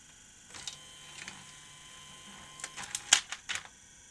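A Grundig 2x4 Super V2000 video recorder, under repair, ejects a tape with a short series of mechanical clicks and clunks over a low hum, the loudest clack near the end.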